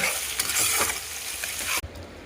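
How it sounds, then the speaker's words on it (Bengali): Chicken cooking in a pan gives a loud, close sizzle mixed with stirring scrapes, which cuts off sharply near the end. "আজকে চিকেন রান্না করছি"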